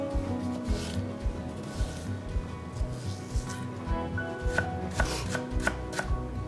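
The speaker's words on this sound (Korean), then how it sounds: "양념장에 들어가는 대파는 그냥 굵게 다지세요" A knife coarsely chops Korean green onion (daepa) on a cutting board in quick, uneven taps, close and fairly soft, with a few sharper knocks near the end and no talking.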